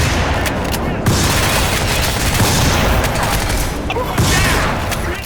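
Rapid, loud blasts from the Marshall shotgun in the video game Crysis 3, with repeated firing packed into a dense, continuous barrage of booming reports.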